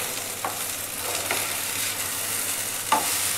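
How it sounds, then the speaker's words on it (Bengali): Potatoes and carrots frying in a pan without oil for a pork curry, a soft steady sizzle with a few brief scraping stirs and clicks, close but fairly subdued, no voices. "এই যে এখানে আলু আর গাজর ভাজা হইতাছে"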